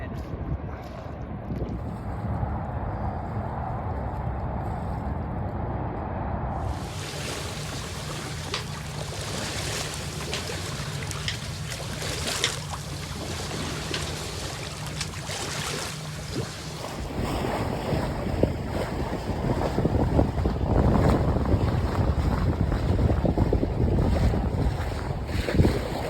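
Wind blows steadily across a boat in 15 knots, a loud rushing roar with water noise underneath that swells stronger toward the end.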